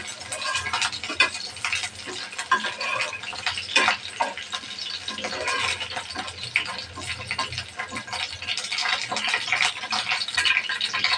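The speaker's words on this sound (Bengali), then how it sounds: "তেল গরম হয়ে গেছে দিয়ে দেব দুইটা শুকনো মরিচ দুটা তেজপাতা দারচিনি লবঙ্গ এলাচ এটা আমি একটু সুন্দরভাবে ভেজে নেব" Dried chillies, bay leaves, cinnamon, cloves and cardamom frying in hot mustard oil in a pan, a continuous close crackle and sputter with irregular bursts throughout, alone without talk.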